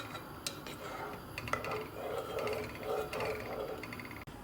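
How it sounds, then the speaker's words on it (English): A spoon stirring sugar syrup in a pot for a white chocolate panna cotta, giving light metallic scraping and faint clinks against the pot, fairly quiet and steady. "I'm going to stir it and then put it on low flame and reduce it."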